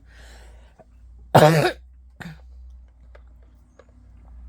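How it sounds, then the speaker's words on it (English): A single harsh, loud cough bursts out close to the microphone, followed moments later by a brief throat sound in an otherwise quiet room. "I have this cough that they can't figure out what exactly it is."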